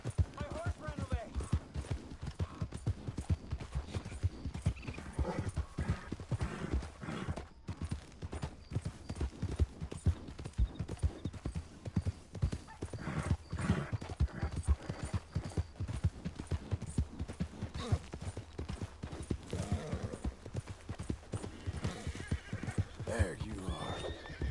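Horse hooves clip-clopping steadily with repeated neighs in a PS4 video game, dense and continuous, with a voice talking over them throughout.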